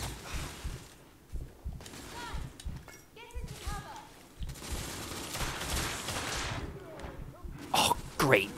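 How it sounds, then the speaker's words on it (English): Repeated shotgun blasts from the video game The Order: 1886, sharp bursts scattered through a busy battle mix with a player talking over much of it. "Repeating shotgun."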